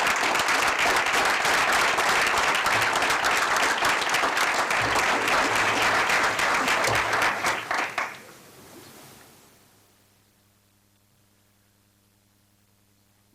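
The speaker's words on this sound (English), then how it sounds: "Let's give them a round of applause as well." An audience at a school board meeting applauds essay contest winners with sustained, dense clapping that fades out toward the end, leaving a quiet room.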